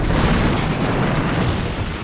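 A torpedo strikes and destroys a ship in the Star Trek Bridge Commander video game, producing a loud, close, rumbling blast that swells at once and rolls on heavily for a couple of seconds.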